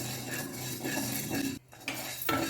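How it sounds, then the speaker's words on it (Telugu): Chana dal and urad dal dry-roasting in a pan make a soft scraping stir with light spoon-on-metal clinks, briefly going quiet before the stirring resumes. "దాంట్లో ఇలా పచ్చిశనగపప్పు మినపప్పు అదొక స్పూన్ ఇది ఒక స్పూన్ వేసి వేయించేసుకోవాలి"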